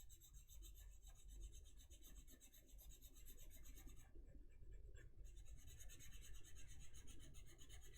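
Colorless blender pencil rubbing over Prismacolor colored pencil on paper, a close, faint, steady scratchy friction that runs continuously with a brief pause midway and no talking.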